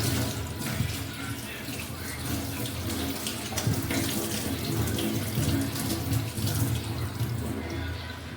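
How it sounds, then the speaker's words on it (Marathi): Shevla vegetables being washed under a running kitchen tap, a steady hiss and splash of water held moderately close for the whole stretch, with no voices. "सगळी भाजी स्वच्छ धुवून घेतली आहे"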